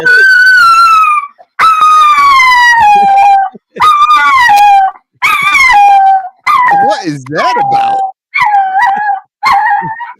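A dog howling along to singing, loud and close, in a series of long wavering, mournful howls separated by brief gaps, with a person speaking briefly.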